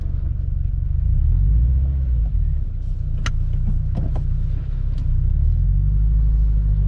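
Deep, steady exhaust rumble from a car fitted with FTSPEED unequal length headers, a continuous low throb with slight swells and a few faint clicks, close and loud with no talking.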